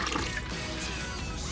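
Water from a manually worked hand pump gushes and splashes steadily, a continuous close-up wash of liquid with dripping and filling textures throughout, no talk.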